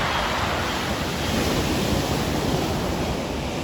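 Rough ocean waves roar in a dense, steady wash of surf, loud and continuous with wind buffeting the outdoor microphone.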